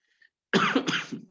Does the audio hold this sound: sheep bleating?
no